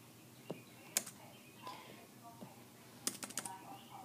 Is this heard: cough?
no